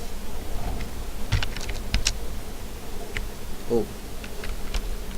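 Computer keyboard keys clicking in short irregular bursts during coding work, with a few spaced single keystrokes, close and fairly quiet over a low room hum.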